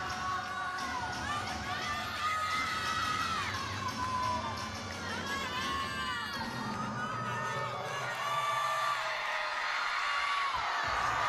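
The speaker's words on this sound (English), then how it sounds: "while the crowd is going wild" Crowd at an NCAA gymnastics championship in Fayetteville cheers and shouts continuously, dense and loud with high excited voices rising and falling throughout.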